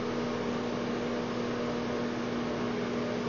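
A microwave oven gives off a steady electrical hum with a strong low tonal drone over broadband noise, constant and close with no other sounds.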